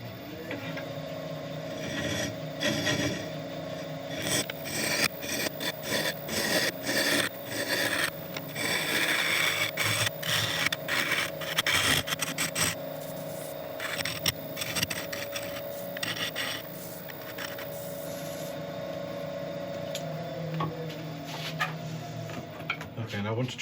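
A large woodturning scraper is sharpened with a steady, continuous grinding rasp over a constant machine hum, close and loud, with short rhythmic strokes.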